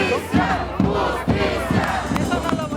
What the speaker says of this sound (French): À sa sortie du Congrès, la foule l'acclame